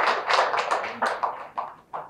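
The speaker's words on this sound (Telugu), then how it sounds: "ఆయన ఇక్కడ కొంచెం క్లాప్స్ కొట్టాలి." Clapping at a music director's press meet, a run of about eight close, sharp claps in an uneven rhythm, the later ones more widely spaced.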